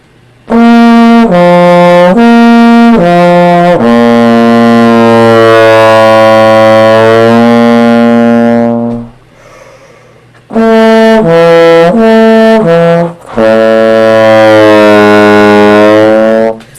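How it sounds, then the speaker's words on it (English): A trombone plays lip-slur patterns in the lower register, loud sustained brassy notes gliding between pitches with swelling volume, in two long phrases separated by a brief pause. "a lip slur pattern that's increasing your sound in the lower register"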